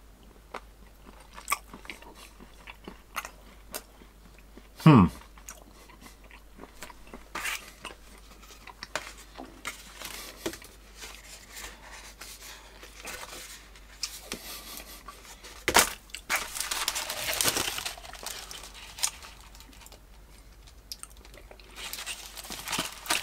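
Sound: biting and chewing whisky chocolate beans

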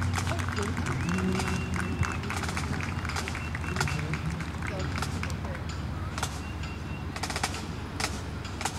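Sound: audience applause

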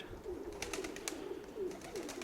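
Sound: pigeon cooing

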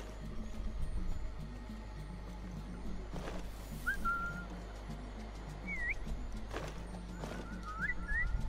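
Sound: character whistling in video game Assassin's Creed

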